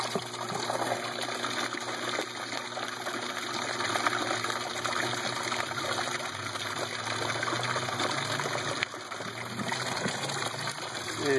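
Water gushing through a bell siphon drain in an aquaponic grow bed, a continuous turbulent rush and gurgle with trickling detail, steady and close for the whole stretch with no talking.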